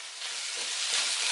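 Teriyaki Dungeness crab stir-fry sizzles in a pan with stock cubes added, a soft, continuous hiss with a low scrape of stirring partway through, fairly quiet and close.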